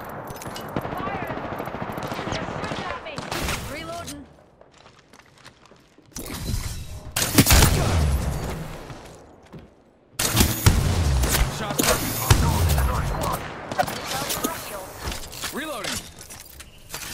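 Bursts of rapid automatic gunfire in an Apex Legends match, loud close volleys broken by short quieter gaps, with a voice talking in between.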